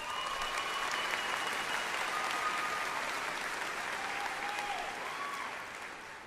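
A large crowd at a high school graduation ceremony applauds staff in a steady, dense wash of clapping that holds evenly and then begins to taper, with faint voices mixed in.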